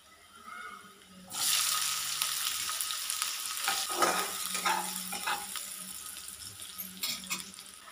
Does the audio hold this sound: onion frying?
yes